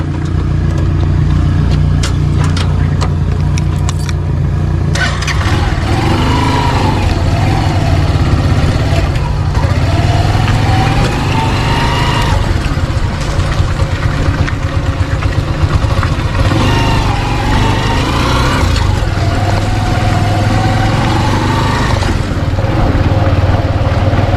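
A motorcycle engine runs steadily and loudly with a low throbbing hum near floodwater, clattering and shifting tones over its continuous drone.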